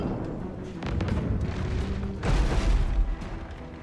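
Ship cannon fire in the naval combat video game Abandon Ship, a series of booming blasts over a rumbling background, with a heavier, louder volley in the later part.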